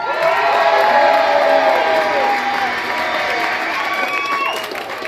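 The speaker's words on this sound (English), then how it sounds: "Give tonight's wolf, the White Wolf, a large round of applause." A large audience cheers, whoops and applauds for the White Wolf, a wolf presented at a live show. The dense crowd roar stays loud and steady throughout, with children's shouts rising above it.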